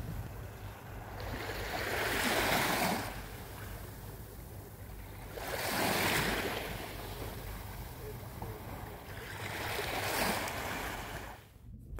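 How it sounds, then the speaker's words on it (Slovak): Sea waves wash onto a sandy Cyprus beach in three slow surges, each rising and receding over a steady background of wind rumble, with no talk. "máme tu krásne priezračné more, čistúčku a teplú vodu, čisté piesočné pláže"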